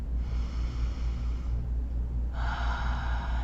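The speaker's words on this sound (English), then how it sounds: "Please take a deep breath with me" One long, deep breath is drawn in and let out slowly, close to the microphone over a low steady hum, with no speech.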